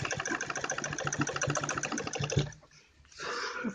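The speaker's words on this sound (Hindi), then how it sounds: "ऐसे जिप को बंद करते जाएं और सिलाई लगाते जाएं।" Sewing machine stitching a zip chain onto the back of a kurti suit, a steady, fast mechanical whir for about two and a half seconds, then a brief lull before the motor starts running again.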